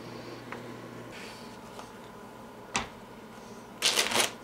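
Playing cards being shuffled for the card game Navajo Tens, a few soft riffles and light flicks early, then a crisp, louder burst of rapid riffling near the end, close up with no talking.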